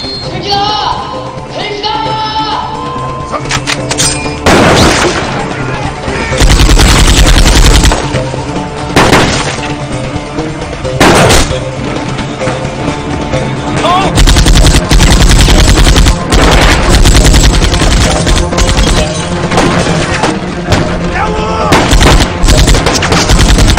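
Gunfire in a shootout from the film Cold Steel: loud, dense bursts of rapid shots and heavy booms repeat across the scene, with brief lulls between the volleys.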